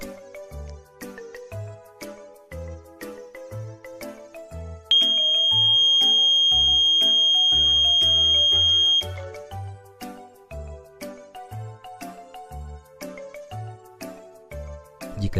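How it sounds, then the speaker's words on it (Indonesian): A door alarm on a microcontroller project goes off as a loud, steady high-pitched tone that holds for about four seconds, sounding over continuous background music. "Alarm akan berbunyi dan mengirimkan pesan ke Telegram jika pintu ada yang membuka."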